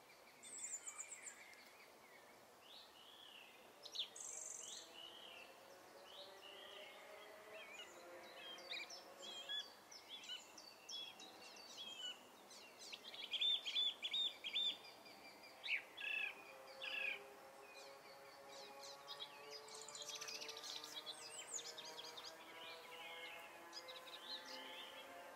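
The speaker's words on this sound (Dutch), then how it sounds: "Dus ik heb de merel, mooi zingend. En ik heb ook de zanglijster," Common blackbird and song thrush sing in woodland, a steady stream of varied whistled phrases and repeated notes layered over one another, moderately distant with a soft background hush and no talking.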